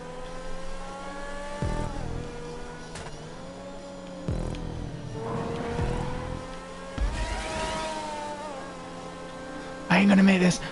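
A custom car engine in GTA 5 revs repeatedly, its pitch climbing and dropping in several surges with brief cuts between, loud and close, with a sharp burst near the end.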